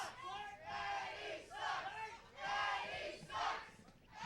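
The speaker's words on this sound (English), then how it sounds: "Crowd saying Eddie sucks." A wrestling crowd at an indoor show chants a taunt at a wrestler in loud, rhythmic waves of massed voices, rising and falling about every second.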